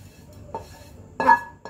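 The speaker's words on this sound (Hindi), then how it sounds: "मैं इसको ट्रांसफ़र कर दूँगी अपनी प्लेट के अंदर।" Roasted coconut is moved from a pan onto a plate, producing a few short, close metallic clinks and scrapes of a utensil against cookware.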